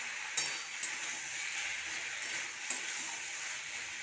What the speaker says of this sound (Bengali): ঢাকনাটা খুলে একবার নাড়িয়ে নেব।